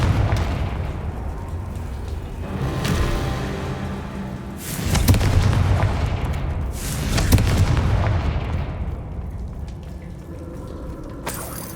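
Fiery Confringo spell blasts in the Hogwarts Legacy video game, several booming explosions with crackling bursts and rumbling decay, spaced a few seconds apart.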